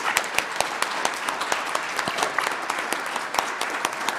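A small audience at a township board of supervisors meeting applauds, a moderate, steady patter of many hands clapping in a room for several seconds without talk.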